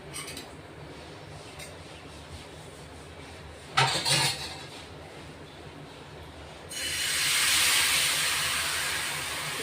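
Oil poured around a besan flatbread on a pan hisses loudly, a steady close sizzle that swells after a sharp clatter, with no talking.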